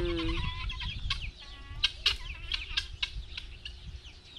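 Chickens cluck and squawk close by, a hen's drawn-out call followed by sharp, irregular clucks and chirps.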